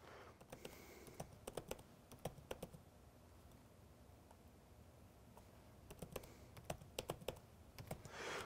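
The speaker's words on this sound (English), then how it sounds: "So I've gone ahead and typed in the password." Keys on a computer keyboard click in quick bursts as a Wi-Fi password is entered, soft and close, with a quiet pause midway before another flurry of taps.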